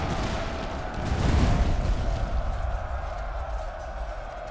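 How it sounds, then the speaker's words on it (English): Musket volley fire from massed infantry in the Master of Command strategy game, a rumbling swell of overlapping shots that builds and peaks near the middle, then settles into a sustained crackling battle din. "It looks like they're firing at will"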